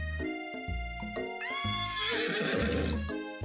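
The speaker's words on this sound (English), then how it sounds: "your sudden movements surprise the horse and it rears up, kicking you directly in the face" A horse in a video game rears up and lets out a loud, high neigh that rises and wavers for over a second, set against a sustained musical tone and a few low thuds, close and prominent.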